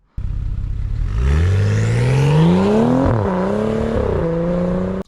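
A BMW 335i engine revs up hard, rising in pitch to a sustained roar, then drops and surges again, loud and close with no talking.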